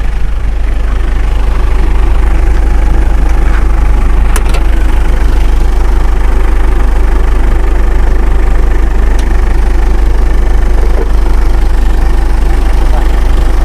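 A Mitsubishi Triton pickup's 2500cc turbo diesel engine idles steadily with the hood open, a constant low rumble holding evenly throughout with faint clicks on top; speech may be present.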